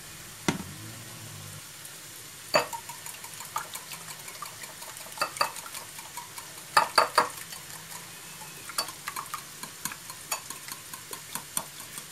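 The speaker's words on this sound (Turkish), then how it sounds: "şimdi artık şöyle bir daha karıştırdıktan sonra şöyle düzlüyorum" A leek omelette egg mixture is stirred and spread in a bowl or pan, giving scattered clinks and scrapes of utensil on dish with light rustling, close and with no talking.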